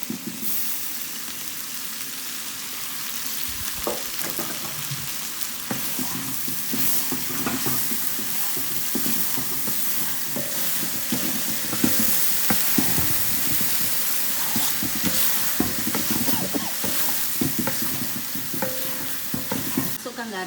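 Blended chili paste sizzles and fries in a pan while being stirred for Malaysian ayam masak merah, a loud, continuous hiss with occasional scraping of the spatula, no voices.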